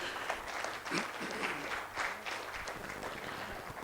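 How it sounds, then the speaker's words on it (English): Conference audience applauding a speaker, a steady wash of clapping at moderate distance that swells slightly and holds for a few seconds without pause. "I'd like us to please applaud him one more time"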